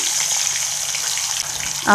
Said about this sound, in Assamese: এতিয়া এইখিনি ভাজি ল'ম চুমিঠা তেলখিনি ধুনীয়াকৈ গৰম কৰি ল'লোঁ মাছকেইটা ভাজি ল'ম